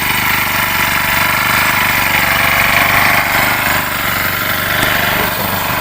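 A brush cutter string trimmer engine running at a steady idle to warm up, a loud continuous buzzing drone close by that holds an even pitch throughout, with no talking.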